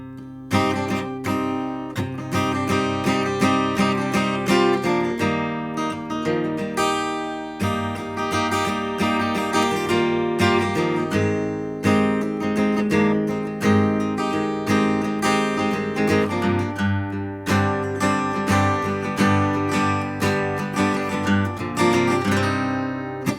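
Strummed acoustic guitar with a capo rings out in a steady rhythm, bright and close, playing a song's chord progression without any voices.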